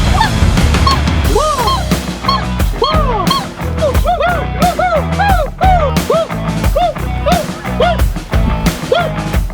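A flock of Canada geese honks loudly overhead during a swan hunt. Many repeated nasal calls overlap in an irregular, busy chorus, with no talking.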